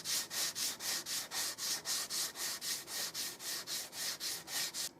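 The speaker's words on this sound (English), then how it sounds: "I'm going to sand up here next to it" Rhythmic sandpaper strokes against the wooden stock of a Stevens Springfield rifle, about twenty steady back-and-forth passes, close and fairly loud with a bright hissing scrape and no talk.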